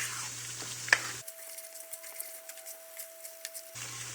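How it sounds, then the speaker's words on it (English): Chili sauce for coconut noodle soup being stirred in a pot, soft scraping and gentle sizzling with scattered small clicks and no talking. "I'm going to mix it first."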